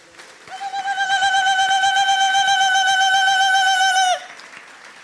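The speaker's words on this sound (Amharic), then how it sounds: "እስኪ እልልታ ጭብጨባ ለዚህ" In a church service, a high trilling ululation rings out for about four seconds and cuts off, with faint clapping underneath.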